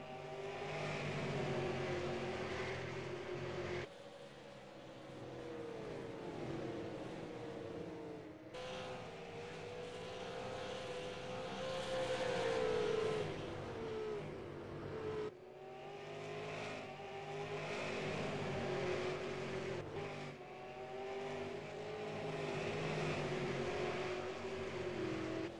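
Race cars circling the Five Flags Speedway oval during a 100-lap race, engines droning steadily at mid distance with rising and fading passes, no talk over the sound.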